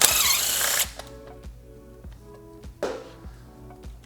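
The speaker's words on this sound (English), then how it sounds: "Now I'm going to hold the fender and remove the last nut." A power tool spins off a nut from the fender of a 2022 Yamaha XSR 900 during a fender eliminator install. A loud, close whir opens, followed by soft ratcheting clicks and a second short buzzing burst.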